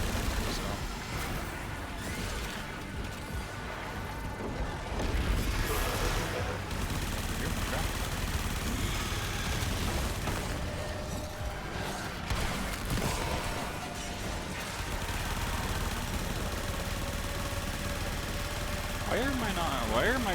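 Gunfire in the video game Warframe, bursts of rapid shots and impacts mixed into dense game effects and music at moderate level, with a voice talking intermittently over the action.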